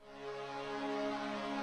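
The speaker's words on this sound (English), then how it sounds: "I used this thing called the M-Tron strings." A soft, sustained M-Tron strings pad from Ableton Live swells in gently and holds a warm, airy chord, quiet and atmospheric with no talking.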